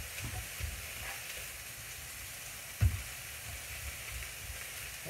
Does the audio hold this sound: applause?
no